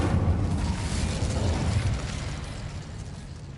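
An Incendio fire spell cast in Hogwarts Legacy, a loud whooshing burst of flame that roars at the start and then slowly dies away, with no speech.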